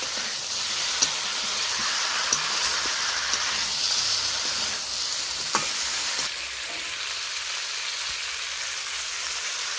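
Cauliflower, potato and bhetki fish stirred in a hot pan, giving a steady sizzling hiss with occasional scraping clicks of the spoon; the sizzle drops slightly in the last few seconds.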